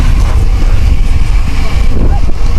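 Steady, cold wind in Greenland rumbles across the microphone in low, buffeting gusts, with a faint voice underneath.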